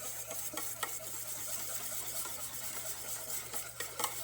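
Butter being whisked into an egg sauce for eggs Benedict, with repeated soft scraping and clinking strokes against the bowl over a faint steady background hum, no talking.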